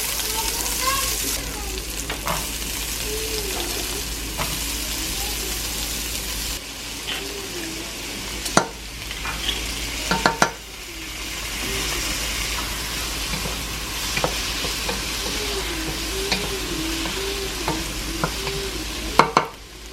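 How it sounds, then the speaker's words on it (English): Garlic, onions and celery sauteing in a pan, a continuous frying hiss with occasional utensil scrapes and clacks, while a faint wavering tone drifts underneath and a brief burst of running water interrupts midway. "while I saute some garlic, onions, and celery"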